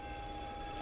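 A video game train rolls past, with a steady metallic rumble and a high wheel squeal held through a very short, fairly faint moment.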